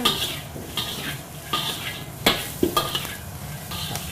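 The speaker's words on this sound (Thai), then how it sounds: "แล้วก็มาคลุกให้เข้ากันนะครับ" Food is tossed and mixed in a hot pan with garlic powder in a Thai hotel kitchen: a steady sizzle with scraping and clinking strokes of the utensil against the pan, close and fairly loud, with no talk.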